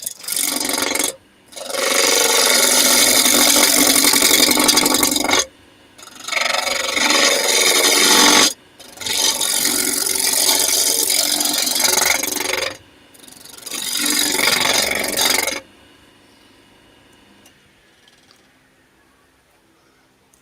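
Chinese elm being cut by a woodturning tool on a lathe, a loud sustained rasping scrape in long bursts of several seconds broken by short pauses, then fading to near silence at the end.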